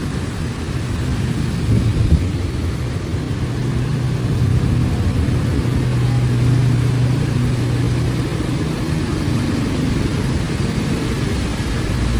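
Motorcycle riding through a flooded city boulevard during heavy rain, a steady broad wash of water and engine rumble that runs continuously and loudly throughout, with no talk.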